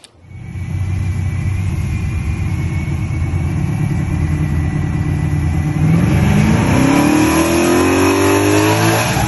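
A Chevrolet Box Chevy drag car's engine roars steadily, then revs hard and accelerates, the pitch sweeping upward as it pulls away, loud and close throughout.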